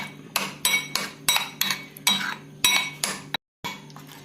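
A spoon mixes coconut oil into a Kerala chili chutney in a bowl, a series of about ten sharp metallic scrapes and clinks in a steady rhythm, close up and with no speech.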